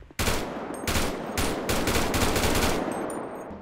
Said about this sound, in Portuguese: Agora vamos ouvir os tiros aqui da AK